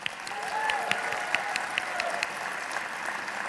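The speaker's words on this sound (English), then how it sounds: "Another big round of applause." Audience applause at a video game awards ceremony, a dense, steady roar of many hands clapping that holds evenly for the whole stretch with a few sharper individual claps standing out.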